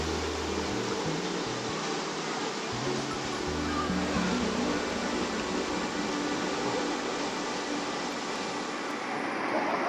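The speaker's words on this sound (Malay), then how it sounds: "Sungai dia memang deras air dia." The fast-flowing Sungai Tanjung Malim river rushes steadily, a dense, even roar of water that holds level throughout with no talk.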